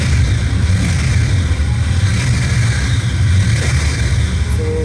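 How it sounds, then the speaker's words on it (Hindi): A cold-started Brixton Cromwell 1200 motorcycle holds a steady, loud, deep exhaust rumble close by, with a slightly raised rev and no talking over it. "the exhaust note of this motorcycle is too damn amazing"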